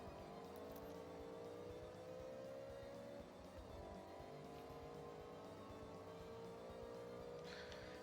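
Cars race and overtake through streets in Forza Horizon 6, a steady, loud engine whine with rising and falling pitch as it revs through gears, continuous for the whole stretch with no talk.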